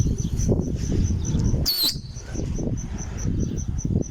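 Pigeons riding along in a vehicle, with a soft chirping call and a brief bright squeak over a steady low engine rumble.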